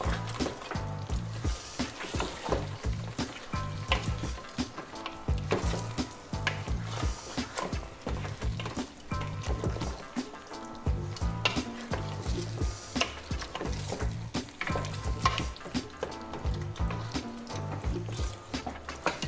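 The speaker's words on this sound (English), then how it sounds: "you want to be sure to give that a really good mix" Jamaican oxtail stew, with ketchup just added, is mixed thoroughly in a pot: a long run of rhythmic scraping and sloshing spoon strokes over a low bubbling sizzle, heard close and evenly paced.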